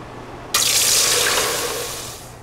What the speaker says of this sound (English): I'm gonna go ahead and add just a little bit of water, thin it out.